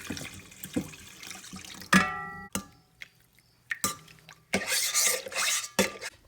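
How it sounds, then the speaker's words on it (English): A spoon stirs honey and yeast into warm water for pizza dough, making intermittent close clinks and sloshing swirls against the bowl with short pauses between strokes. "you just stir to dissolve your sweetener, which is your sugar, your honey, whatever it may be"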